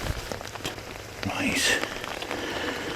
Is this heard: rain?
yes